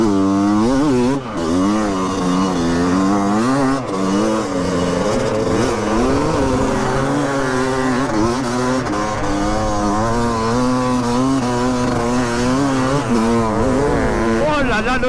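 Several enduro motorcycle engines rev loudly and continuously during a beach race at Le Touquet, pitches rising and falling as they accelerate, close and overlapping without a break.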